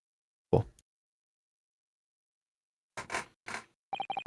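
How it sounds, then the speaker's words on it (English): A squeaky chair creaks in a quiet attic room: one short squeal, then a pause, then a few more quick creaks in a cluster, the last ones a higher, more tonal squeak. "Squeaky ass chair."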